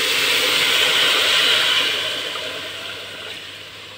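Water poured into a hot pan of fried pulao rice sends up a loud, broad steamy hiss that slowly fades, with no other sounds present.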